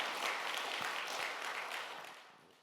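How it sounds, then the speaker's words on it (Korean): A church congregation claps together in a dense, moderately distant round of applause that gradually tapers off. "큰 박수로 하나님 앞에 영광 돌리겠습니다"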